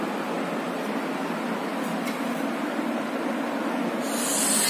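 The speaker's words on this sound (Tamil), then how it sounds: "ஸோ ஃபேன் வந்து ஆனில் தான் இருக்குது" An electric fan runs close to a Boya microphone, producing a steady, even broadband whoosh that holds constant from start to finish.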